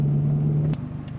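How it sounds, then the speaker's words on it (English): Stock Subaru WRX idling through a Greddy RS race catback exhaust with no J-pipe or downpipe: a steady low burbling drone that cuts off abruptly partway, leaving a quieter rumble behind. "just so you guys get a feel of what this exhaust sounds like with just the catback"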